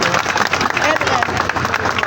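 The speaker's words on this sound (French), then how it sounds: "Applaudissez s'il vous plaît." A crowd applauds at an official installation ceremony, with dense, steady clapping throughout and voices mixed into the noise.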